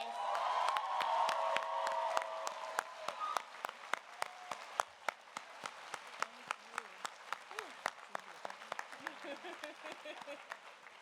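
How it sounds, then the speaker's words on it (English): Applause at a college commencement ceremony, dense at first and thinning into scattered individual claps, with a few voices calling out early on and someone speaking over the fading clapping. "Can we get another round of applause, please?"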